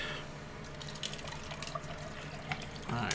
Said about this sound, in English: let's go ahead and serve some water here